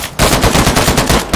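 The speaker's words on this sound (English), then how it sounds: "Ooh, more shots." Loud, close bursts of rapid automatic gunfire from a war video game set in Afghanistan, 1980, rattling continuously with only brief breaks.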